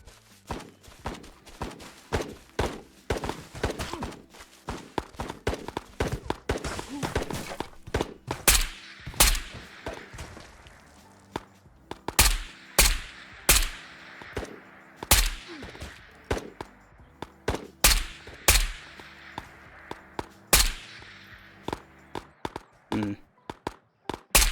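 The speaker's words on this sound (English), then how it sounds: "I just heard the, like, automatic fire." Automatic gunfire in the VR shooter Ghosts of Tabor, sharp cracking shots in quick irregular bursts, some close and loud, others fainter, spread across the whole stretch amid footsteps and movement.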